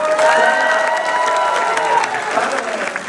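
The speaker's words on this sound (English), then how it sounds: "Guys, can you give Miles a round of applause" An audience at a FanX Salt Lake City 2025 convention panel applauds and cheers in a loud, continuous wash of clapping, with whoops and shouts rising above it.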